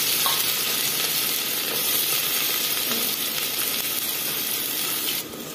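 Chopped onions fry in hot oil with chopped chillies in a pan, a loud, dense, continuous sizzle and hiss close by, steady throughout with no talk.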